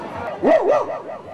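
A human voice imitates a rich man's big, well-fed dog barking, giving a short, deep, wavering woof-like call up close.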